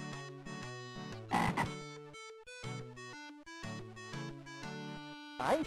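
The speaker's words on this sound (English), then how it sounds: "Oh boy! A frog!" Cartoonish electronic frog croaks from the Sega Genesis game Barney's Hide and Seek Game, repeated chiptune-style croaking notes bouncing in a rhythmic pattern over a synthesized backdrop.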